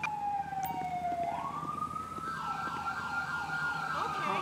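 An ambulance siren in the video game GTA 5 wails loud and alone, its tone sweeping upward and then holding a steady cycling pitch over a low engine hum.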